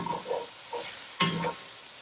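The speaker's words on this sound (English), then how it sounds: "We're going to go ahead and add in our tomatoes and do another stir." Tomatoes being stirred into a sizzling shakshuka pan, giving a few soft scraping strokes followed by a louder wet stir burst with brief frying crackle, close and alone.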